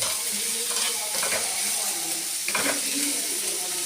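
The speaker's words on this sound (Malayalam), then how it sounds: "സവാള നമുക്ക് വഴറ്റിയെടുക്കാം" Onions sautéing in a pan for a quick egg curry, a steady close sizzle with stirring scrapes and soft clinks, no talking.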